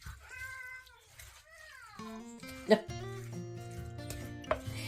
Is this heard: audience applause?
no